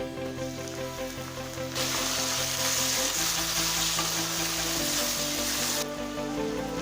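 Shallots and garlic sizzle steadily in oil in a pan for a spicy Tamil kara kulambu, the frying growing louder and brighter partway through as tomatoes go in, with stirring under it.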